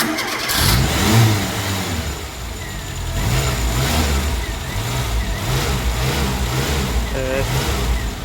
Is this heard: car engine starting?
yes